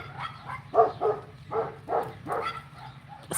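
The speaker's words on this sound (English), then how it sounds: "A symphony of dog barking in this neighborhood." Neighborhood dogs barking in a series of about six spaced, mid-distance barks over faint background hum.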